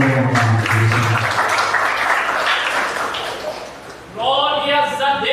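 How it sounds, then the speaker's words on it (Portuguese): A church congregation claps during a worship service, a dense wash of applause that swells and then fades, with singing or voices over it and speech returning near the end. "As palmas que louvam a Deus."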